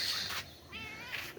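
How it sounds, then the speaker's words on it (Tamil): A cat in a garden gives a brief, fairly faint meow. "மியாவுன்னு விஸ்கி"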